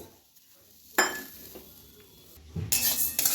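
Chana dal stirred in a kadai, giving a few sharp metallic scrapes and clinks of a utensil against the pan, with a faint sizzle in between and a louder burst of scraping near the end.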